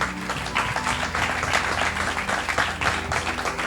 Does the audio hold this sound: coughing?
no